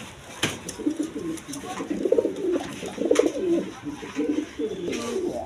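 Pigeons, including big Rajgolla birds, coo repeatedly at a pigeon sale, with low, throaty rolling calls overlapping at moderate volume throughout, alongside scattered background noise.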